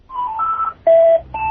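Short electronic tones sound from a phone, a quick sequence of loud, close beeps at shifting pitches, heard alone without talk.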